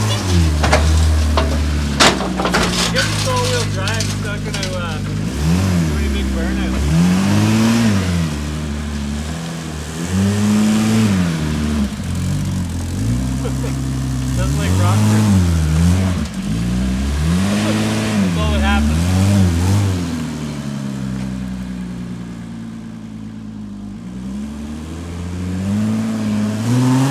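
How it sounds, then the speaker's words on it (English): A four-wheel-drive car with a diesel engine revs again and again, its rough, loud drone rising and falling in repeated surges for nearly half a minute. "It's a diesel engine"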